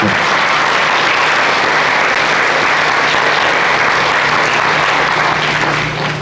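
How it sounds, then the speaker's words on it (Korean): An audience claps loudly and continuously at a Korean Liberation Day ceremony in Gyeonggi Province, a dense sustained wash of applause throughout. "큰 박수로 성원을 해주시면 감사하겠습니다"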